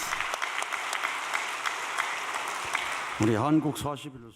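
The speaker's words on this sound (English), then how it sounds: "let us give them a big round of applause" Sustained applause from an audience greets youth workshop singers, steady and fairly full, then stops as a voice begins speaking over the hall near the end.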